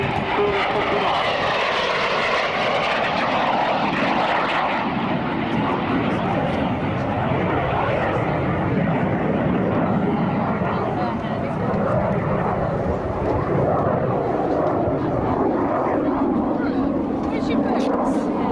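A Jet Provost jet trainer sweeps past at high speed over an RAF Marham airshow, a loud, steady roar of engine and air noise holding for the whole stretch, with crowd voices faintly underneath.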